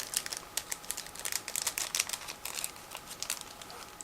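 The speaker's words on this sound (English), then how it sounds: "Next we have the another plastic bag, so I'm going to open it." Close-up crinkling and rustling of a plastic bag of parts from a Miniart 1/35 Grant Mk.II model kit being opened, quick irregular crackles with no voices.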